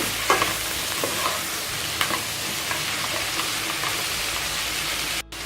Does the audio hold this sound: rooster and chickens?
no